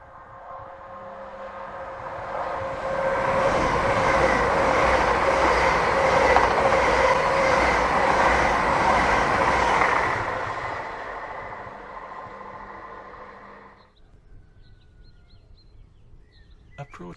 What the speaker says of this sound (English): Train 1 Whiskey 11 passing at speed.